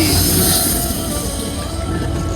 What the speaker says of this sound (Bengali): আমাদের ট্রেন কিন্তু ছেড়ে দিয়েছে